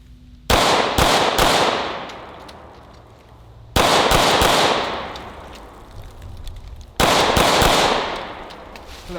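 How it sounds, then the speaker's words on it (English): Pistol shots at a rubber dummy ring out loud and near in three quick clusters, each group of rapid cracks followed by a decaying echo and a pause. "I'm gonna put 3 rounds from each gun on the rubber dummy right in the chest"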